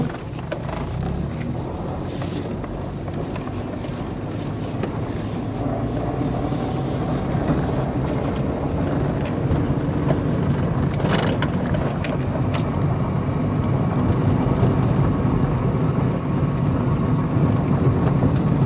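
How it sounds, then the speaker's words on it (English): A Honda Civic rolls slowly through a driveway after a front wheel bearing replacement, giving a steady, continuous road and drivetrain rumble with faint rattles, heard from inside the car at around 15 mph. "Now let's see how this car sounds, see if we actually fix the problem."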